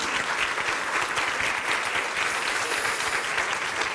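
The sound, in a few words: audience applause for event team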